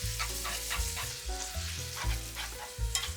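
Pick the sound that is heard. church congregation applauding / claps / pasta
pasta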